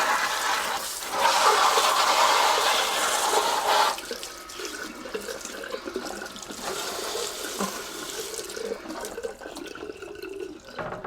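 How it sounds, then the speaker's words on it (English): Tap water runs and splashes steadily while a backpack vacuum's filter bag, turned inside out, is rinsed under it, loud and continuous at first, then softer, with intermittent splashing and dribbling toward the end. "go ahead and turn the water on and just start rinsing it out."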